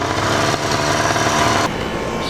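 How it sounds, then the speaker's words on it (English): Small motorized bicycle engine running rough, a close, loud buzzing putter with an uneven, sputtering rhythm that shifts pitch partway through. "I really want to figure out what's wrong with this motor and why it's running like that"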